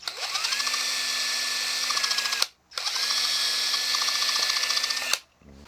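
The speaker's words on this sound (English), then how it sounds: "I forgot to drill my wiring pads in here before I glued the neck in." A drill fitted with an eighth-inch installer bit bores wiring pad holes into a guitar body with the neck already glued in, giving two steady whining bursts of about two seconds each, close and loud, with a short gap between them.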